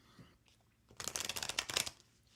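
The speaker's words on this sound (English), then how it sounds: "So I'm shuffling right now." Tarot cards shuffled by hand in a quick, rustling burst of riffles lasting about a second and a half, fairly close and clear, with no talking over it.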